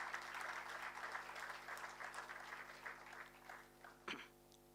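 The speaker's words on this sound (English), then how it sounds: "a big round of applause as we welcome all our dignitaries to the stage" Audience applause at a formal event as dignitaries are welcomed to the stage, a dense burst of clapping that gradually thins and fades, with a few scattered claps near the end.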